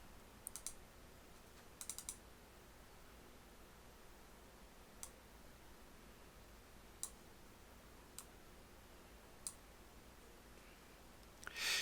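A computer mouse clicks on a desktop icon in a quiet room, giving faint, sharp, isolated clicks, a few paired close together, spaced out over near silence.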